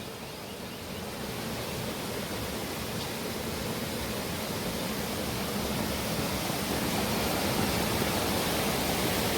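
The Dakshin Manganga, a village river that flows down toward the Krishna, rushing steadily as a loud, even roar of water from start to finish, with no voices.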